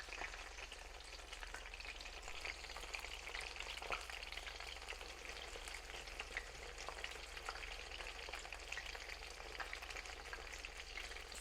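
Pork medallions fry in a pan with a steady, faint crackling sizzle that carries on evenly throughout, with a low hum underneath and no talk.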